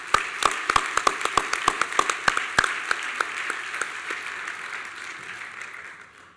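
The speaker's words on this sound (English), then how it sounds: "Let's give them a round of applause." An audience at a Champion of Children charity event claps in a round of applause, with sharp individual claps standing out early before the sound thins into a fading patter over several seconds.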